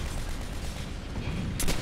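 A grenade launcher hit in Call of Duty: World at War, heard as a dense, rumbling barrage of muffled firing and blasts that ends in a sharp bright crack near the end, all within about two seconds.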